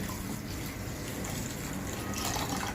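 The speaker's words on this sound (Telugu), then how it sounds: "ఈ షుగర్ ములిగేంత వరకు వాటర్ వేసుకుని" Water poured from a vessel onto sugar in a pan to make syrup for Mysore pak: a steady, continuous pouring gush heard up close, with no speech.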